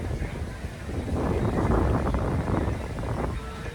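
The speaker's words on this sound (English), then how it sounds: "It is super windy here" Heavy wind buffeting the microphone at Epcot's Festival of the Arts, a steady low rumble that swells in the middle and persists throughout, with no clear voices.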